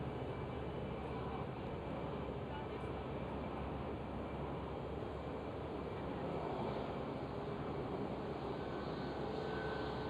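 An EasyJet Airbus A319 jet airliner passes at Amsterdam Schiphol, a faint, even distant rumble of engines holding steady throughout with no voices.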